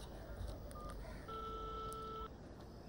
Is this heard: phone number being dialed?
yes